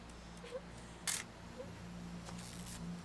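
A camera shutter clicks once, sharp and close, while taking a selfie in the game What Remains of Edith Finch, over a quiet low hum.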